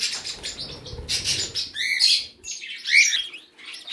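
Small pet birds in a bird room chirp and tweet up close while wings flap in brief bursts, lively and fairly loud with no talking.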